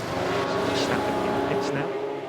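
A Formula 1 car engine in the racing game F1 Manager 2022 as the car heads into the pit lane, a continuous high whining drone with shifting pitch, under someone talking.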